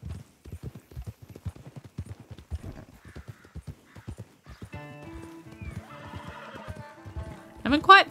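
Steady clip-clop of horse hooves at a trot along a road in Red Dead Redemption 2, followed by a loud, high horse whinny right at the end.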